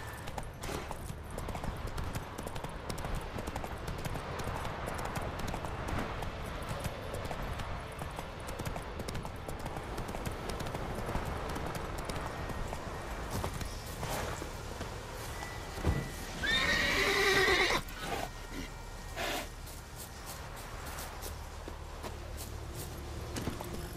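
Horse hooves clip-clop at a gallop on a dirt track in The Witcher 3, steady and close under ambient game music and rustle, with a brief loud whinny near the end.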